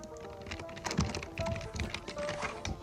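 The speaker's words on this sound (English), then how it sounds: "what menu am I even typing in?" Quiet, rapid keystrokes on a computer keyboard during a livestream, a soft, irregular patter of clicks and taps with a few heavier thunks.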